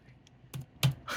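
A few quick keystrokes typed on a computer keyboard, close and clear, with three distinct clicky taps in about a second.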